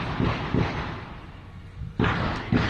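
Gunshots ringing out while a local candidate in Tamuín, Mexico films a campaign video, four sharp loud cracks in two close pairs with rumbling echo between them.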